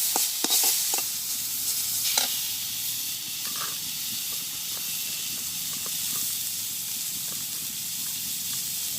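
A steady hiss and crackle from green chilies frying in a pan in a village kitchen, with a few sharp pops and stirring scrapes early on, then an even sizzle.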